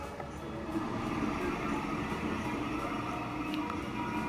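A freight train running in the video game Transport Fever 2, a continuous rolling rumble with a rattling metallic texture and an occasional faint high tick, steady and even in loudness throughout.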